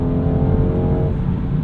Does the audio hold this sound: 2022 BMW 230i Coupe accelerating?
yes